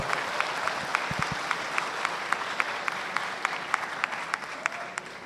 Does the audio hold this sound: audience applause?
yes